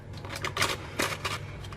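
Thick cake batter with chocolate chips is scraped and plopped into a greased, paper-lined loaf tin, giving several soft, close scraping and tapping bursts over a low background hum.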